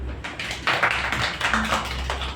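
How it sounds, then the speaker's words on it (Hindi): A classroom audience claps in a short burst of rapid, uneven hand claps lasting a couple of seconds, fairly close and clear with no talking over it. "ताली तो बजाओ ताली"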